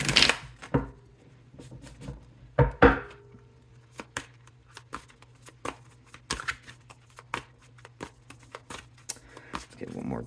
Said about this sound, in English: good shuffle in here